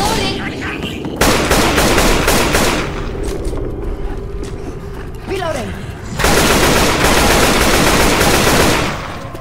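Sustained rifle gunfire from Left 4 Dead 2 on expert difficulty in The Parish, loud bursts of rapid shots with a short lull in the middle before heavy firing resumes, game voices calling out beneath.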